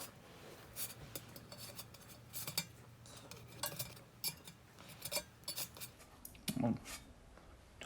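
Cherry cheesecake egg rolls being flipped in a pan, a quiet series of light metallic clicks and taps from utensils against cookware, scattered and irregular with a faint soft voice.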